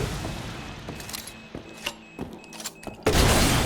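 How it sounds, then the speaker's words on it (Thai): A grenade blast in the video game Resident Evil Village: several scattered thuds and clicks build to a sudden loud, sustained explosive burst near the end. "นี่ยิงลูกระเบิด เสริมทับเข้าไปด้วย"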